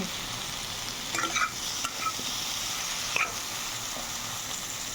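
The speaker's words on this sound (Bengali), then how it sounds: "জল দিয়ে ভালো করে কষিয়ে নেবো এটা" Ground coriander and cumin frying in a pan, a soft continuous sizzle with a few light scrapes and clinks from stirring, fairly quiet and without talk.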